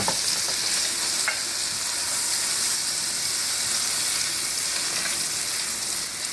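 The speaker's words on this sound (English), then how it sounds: "And we cook them on a high gas for 1 minute." Red shrimps frying in butter over a high gas flame give off a loud, steady sizzle that runs unbroken throughout, with no talking.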